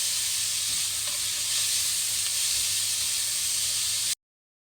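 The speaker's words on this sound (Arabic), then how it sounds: "ونقلب برضو الجزر مع البصل" Sliced carrot sticks and onions sizzle steadily in a hot pan while being stirred, a dense continuous hiss with faint scraping underneath, close and unbroken for about four seconds before cutting off abruptly.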